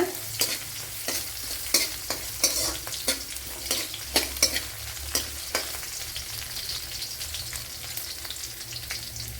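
Ginger and other ingredients sauté in hot oil in a pan for drumstick leaf thoran, with a continuous sizzle and repeated sharp spatula scrapes at a fairly regular pace, close and clear.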